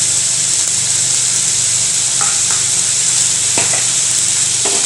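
Vegetables, carrots among them, sizzle loudly as they are added to a hot pan for an Indian side dish, a steady bright frying hiss with a few soft clinks of stirring.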